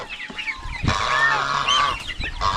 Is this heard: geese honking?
yes